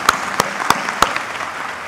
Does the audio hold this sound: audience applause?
yes